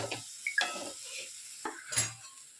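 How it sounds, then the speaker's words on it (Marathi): Onion sautés on a low flame in a pan, heard as a faint sizzle under a few close clinks and scrapes of a spoon stirring against the metal, with no one speaking. "आणि आता हे फक्त आपल्याला परतून घ्यायचं मंद आचेवर"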